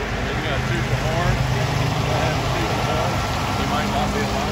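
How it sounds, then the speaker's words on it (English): A truck passing by on a road, heard as a steady, fairly loud rumble of engine and road noise that holds for several seconds without a clear peak, with faint murmuring voices in the background. "We're going to let this truck go by here."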